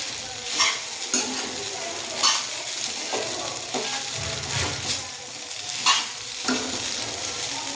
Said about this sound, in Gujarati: હવે આપણે મિક્સ કરી દઈશું લીંબુનો રસ એડ કરી